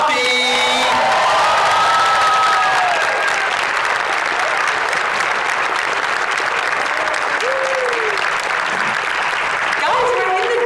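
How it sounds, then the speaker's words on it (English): A sold-out crowd in a dome theater applauds and cheers for Margot Robbie at a film Q&A for I, Tonya, loud dense clapping with whoops and shouts rising over it throughout. "Please give a rousing round of applause for Margot Robbie."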